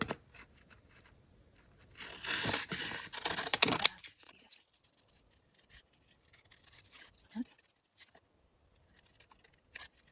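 Scissors cut out a paper Easter egg tag, a quiet close burst of snipping and crunching paper lasting about two seconds, followed by faint scattered small rustles and clicks.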